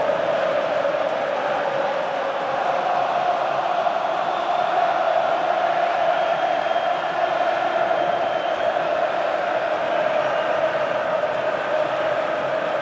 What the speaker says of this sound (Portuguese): para você curtir o canto da torcida alvinegra